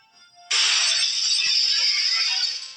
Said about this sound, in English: The bolt shatters the light, and in the sudden darkness, I hear the pieces fall to the floor.